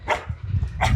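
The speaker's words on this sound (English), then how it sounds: "And then if you hear that dog barking," Two sharp dog barks about a second apart, close and loud, with low rumbling noise in between, at a holiday park caravan site.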